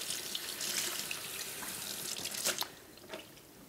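Tap water runs steadily into a kitchen sink to rinse stove pans during chemical-free stove cleaning, a continuous close splashing stream with a few louder drips and gurgles near the end, no voices.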